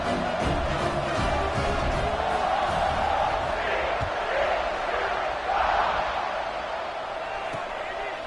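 A football stadium crowd gives a loud, steady roar of cheering, with a commentator talking over it throughout.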